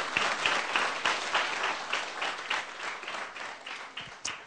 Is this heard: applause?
yes